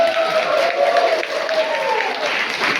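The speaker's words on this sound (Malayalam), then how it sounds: "നിങ്ങൾക്ക് ഇഷ്ടപ്പെട്ടെങ്കിൽ വലിയ ഒരു കയ്യടി ഇവർക്ക് കൊടുത്താട്ടെ" Church audience applauding the grandmothers' performance at a feast-eve program at St. Mary's Orthodox Syrian Church, a dense, continuous wash of clapping from a crowd, loud and steady throughout.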